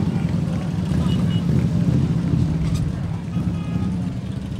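Veterans of foreign wars ride motorcycles in a 2014 civic parade in Kenosha, with a steady low engine rumble and outdoor wind noise, continuous and fairly loud, with voices mixed in.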